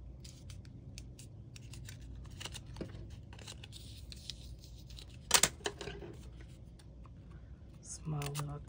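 Hand cutting paper petals for a paper lily center with scissors, a series of small, quiet snips and rustles of folded paper close by, with a sharper louder snip midway and soft handling noises throughout.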